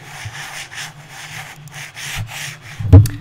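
A Razer Naga 2014 gaming mouse is rubbed back and forth across a mouse pad, making a close, dry scratchy swishing in repeated strokes, ending with a sharper thump.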